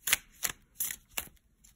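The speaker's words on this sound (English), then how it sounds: "I'm just shuffling for you guys." A deck of playing cards being shuffled at a table during a card reading, four short riffling bursts in steady succession, close and fairly quiet with near silence between them.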